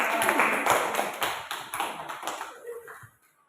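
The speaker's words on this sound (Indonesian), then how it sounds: "Berikan aplaus untuk Sinta." Classroom applause for a student named Sinta during a school teaching practice session, a burst of brisk clapping from a small group that carries on for about three seconds before trailing off.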